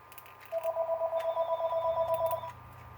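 A mobile phone rings with an incoming call, a fast warbling electronic trill repeating steadily for about two seconds, close and clear with a faint hum beneath and no speech.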